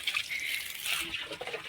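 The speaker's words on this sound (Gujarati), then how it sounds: "પાણી શરૂ થઈ ગયું છે." Water flowing from a pipe on a farm after the pump starts, a faint steady trickling and splashing rush that continues throughout.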